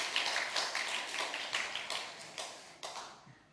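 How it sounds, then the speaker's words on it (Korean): A church congregation applauds during a Sunday worship service to welcome a visitor, a moderately faint, steady patter of many hands with occasional sharper accents that fades near the end. "우리 큰 박수로 환영하겠습니다"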